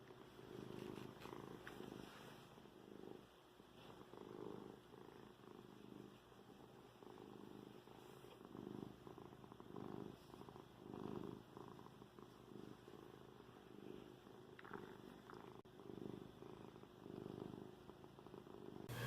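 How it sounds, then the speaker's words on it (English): Mimi the cat purrs close by, quiet but steady, the rhythmic rumble pulsing on and off without a break and with no talking over it. "I don't know if the mic is picking up this purring"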